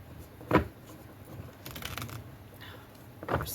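Tarot cards are shuffled by hand in a quiet room, with a few soft, brief riffling and slapping bursts spread across a few seconds.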